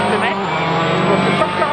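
Sébastien Loeb's Citroën C4 rally car racing in darkness, its engine droning loud and steady at close range, a high whine running throughout.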